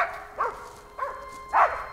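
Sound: hunting dogs barking

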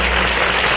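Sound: audience applause welcoming a performer

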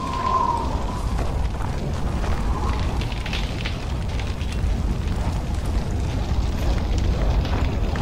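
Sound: explosion in the video game Far Cry 4

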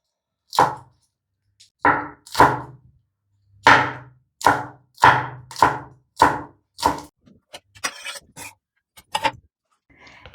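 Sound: finely chopping green chillies with a knife

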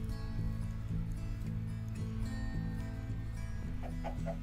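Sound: chickens clucking in the video game Minecraft

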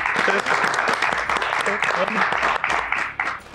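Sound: audience applause for Gastón

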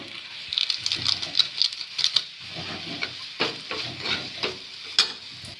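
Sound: vegetables frying and being stirred in a pan for Maggi

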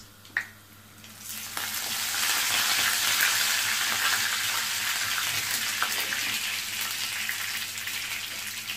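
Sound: frying curry leaves and onions for wheat rava upma

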